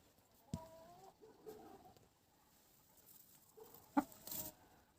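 Broody hen sitting on a clutch of turkey eggs gives a few soft, scattered clucks close by, with a sharper louder call near the end over a quiet background.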